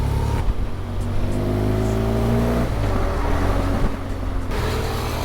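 Heavy Istanbul road traffic heard from a touring motorcycle, with a droning engine that shifts pitch as it accelerates and eases off, amid the loud, continuous rumble of surrounding vehicles.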